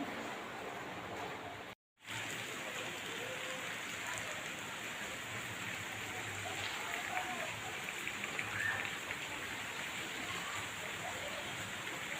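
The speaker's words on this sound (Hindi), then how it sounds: "इतना बारिश है। मैं आप लोगों को थोड़ा सा बारिश दिखाती हूँ।" Heavy rain pours steadily outside a home balcony at night, a dense even hiss throughout with one brief dropout near the start and scattered drips standing out later.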